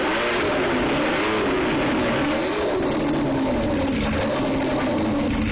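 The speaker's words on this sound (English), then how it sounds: "it fired up for the first time" A restored Indy race car engine runs steadily and loudly throughout, a dense broad roar with slight pitch swells suggesting light revving.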